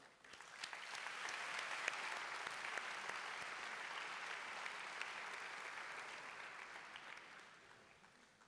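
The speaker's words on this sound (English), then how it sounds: "Let's give them an applause as well." Sustained applause from a conference audience in Baku at the World Scout Conference, a dense, steady clapping that swells quickly, holds for several seconds and tapers off at the end.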